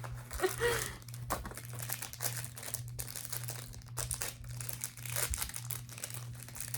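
Close, continuous crinkling and rustling of tape and packaging with occasional tearing bursts as a taped-up package is pulled open, steady and fairly quiet.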